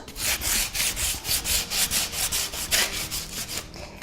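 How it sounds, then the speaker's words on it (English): Rhythmic back-and-forth rasping of sandpaper along the grain of wood, about eight strokes every few seconds, close and steady with no voices. "When you are sanding, it's always best to go with the grain of the wood."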